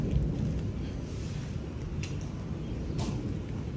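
Heavy rain pours steadily outside a house during a storm, with a dense continuous roar and a couple of brief brighter crackles that may be distant thunder.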